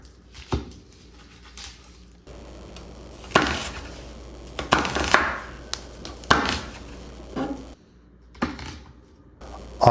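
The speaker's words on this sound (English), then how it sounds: "let's get started with cutting our onion" A kitchen knife cuts an onion into big strips on a board, with scattered firm chops and taps in uneven bursts and quiet gaps between them.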